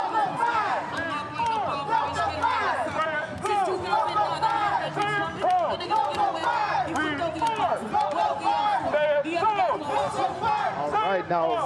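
Unite Here Local 5 union marchers cheering and chanting as they come down the street at the Honolulu Pride Parade, a dense, steady crowd roar of many voices with rhythmic shouts rising and falling throughout.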